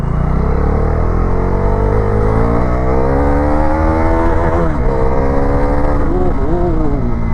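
A 2026 Bajaj Dominar 400 motorcycle is ridden hard on a road, its engine revving loud and close with a pitch that climbs, dips at gear changes and climbs again.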